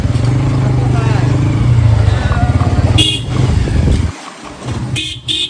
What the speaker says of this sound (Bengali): তো বাইক চালাচ্ছে আমার বন্ধু আর আমার পিছে আছে দুই প্রতিবন্ধী।